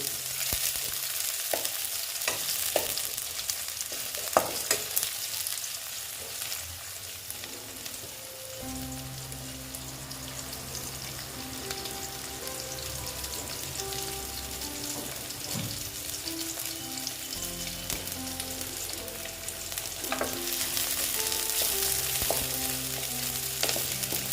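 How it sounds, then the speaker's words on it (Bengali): Onion fries in hot oil in a pan beside small tengra fish, giving a steady loud sizzle and crackle with occasional utensil scrapes and stirring, the hiss swelling toward the end. "পেঁয়াজটা একটু ভেজে নিচ্ছি"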